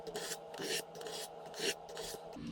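A knife blade is honed on the finer rods of a Spyderco Triangle Sharpmaker, the flat of the blade drawn across the ceramic. Repeated close raspy strokes come in a steady back-and-forth rhythm, fairly loud, with no talking.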